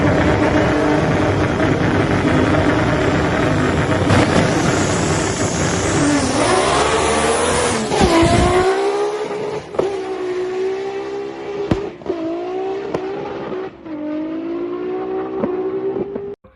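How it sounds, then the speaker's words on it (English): Toyota Supra engine at a track revving hard with a badly slipping clutch, a loud sustained rising and falling drone with repeated surges in pitch, heard close and alone without talk. "the clutch is slipping very badly"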